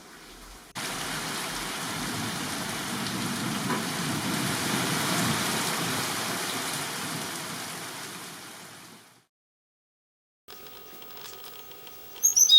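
Heavy pre-monsoon rain pours steadily for several seconds as a dense, even hiss with patter, then cuts off abruptly, followed by fainter outdoor sound.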